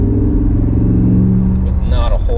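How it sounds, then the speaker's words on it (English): A Dodge/Jeep engine fitted with an AMP'D throttle booster set to extreme mode, a loud close idle-to-rev drone that climbs in pitch under light throttle, with someone talking over it. "I'm sure you guys can hear the pitch of the engine,"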